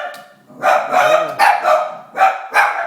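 Several dogs barking in short, repeated bursts close by, with a yelping, whimpering tone in places and brief pauses between the barks.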